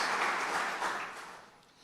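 Church congregation applauding during a worship service, a steady wash of clapping that starts full and gradually thins and fades over a couple of seconds, with no voices over it.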